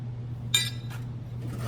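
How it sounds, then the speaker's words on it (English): Metal body spoons used for auto body dent work, a lightweight slapper and a heavier one, clink together in a few bright, brief metallic taps over a steady low hum. "I have a lightweight slapper body spoon"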